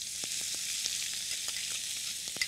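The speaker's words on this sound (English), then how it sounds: "the mustard seeds are popping and urad is getting golden brown. This is what you want to do. And then I'm going to add the onions." Mustard seeds and urad dal fry in hot oil before onions go in, making a dense, steady sizzle with quick small pops scattered through it.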